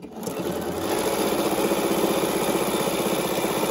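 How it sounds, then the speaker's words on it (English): A sewing machine backstitching quilt fabric while closing a kaleidoscope baby quilt: a loud, fast, steady mechanical whir of rapid stitching that runs close and continuously, with no talking over it. "I'm going to back stitch here. Just a couple stitches, that's all."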